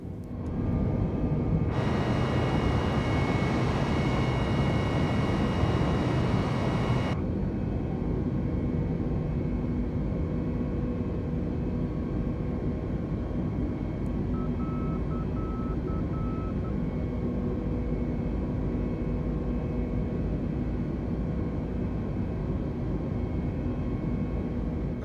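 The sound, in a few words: Airbus A320neo engines in video game Microsoft Flight Simulator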